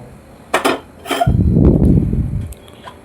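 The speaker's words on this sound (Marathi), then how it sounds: "गॅस चालू करून" A metal kadai is set onto a gas stove: two quick, close metallic clinks, then a steady rushing hiss for about a second before it fades.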